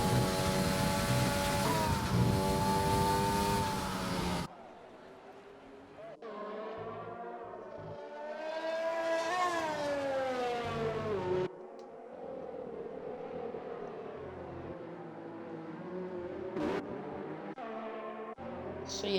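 Race car engines in an Xbox Formula-style racing game at the USA Grand Prix, running in a pack behind the safety car. A loud, steady engine drone gives way to whining tones that rise and fall as the cars idle along.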